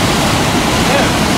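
A river at a campsite rushes loud and close, a steady wall of churning water noise with no breaks across the whole moment.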